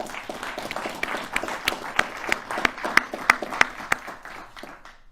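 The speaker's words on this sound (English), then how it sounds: "please offer our men and women in law enforcement a round of applause." Audience applause at a city's State of the City address honoring law enforcement, a moderate crowd clapping with distinct sharp individual claps standing out rhythmically, fading away at the end.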